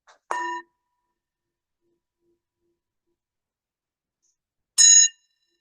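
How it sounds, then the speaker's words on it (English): A meditation bell struck twice, each a bright ringing tone that fades quickly into silence, the strikes several seconds apart and heard alone. "the bell will invite us into the meditation."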